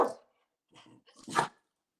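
A dog named Bouncy gives a short bark followed by a soft two-part yip, close and fairly quiet, with silence in between and no talking.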